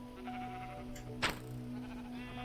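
A single short sheep bleat from Minecraft rises briefly over a steady hum of game background sound, fairly soft and close.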